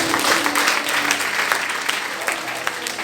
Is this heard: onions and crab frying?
no